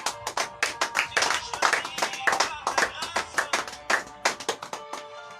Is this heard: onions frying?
no